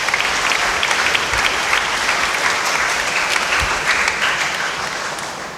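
Loud applause from a parish congregation during a novena service, dense clapping with a few sharp claps standing out, holding steady for several seconds before thinning slightly at the end.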